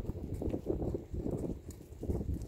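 Soft hoofbeats of a silver gray walking horse on the ground, a muffled, even rhythm of low thuds repeating in quick groups, fairly close and gentle.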